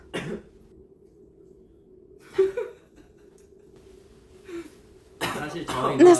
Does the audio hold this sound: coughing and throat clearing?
yes